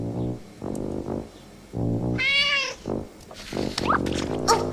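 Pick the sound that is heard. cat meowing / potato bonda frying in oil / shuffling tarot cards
cat meowing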